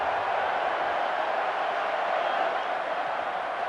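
Large football stadium crowd at a Fiorentina versus Juventus match in Italy, a steady broad roar of applause and cheering that holds evenly throughout without breaks.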